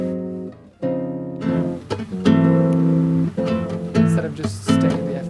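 A guitar plays a bossa nova turnaround, squeezing four chords into two bars in a syncopated strummed rhythm, close and solo with no voice.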